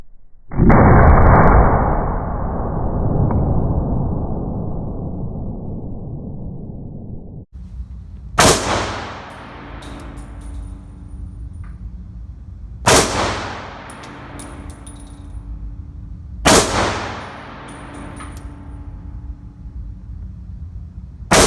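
A Tokarev pistol fires at a shooting range: a loud blast with long rumbling decay opens, followed by three further sharp reports spaced a few seconds apart, each ringing out and fading.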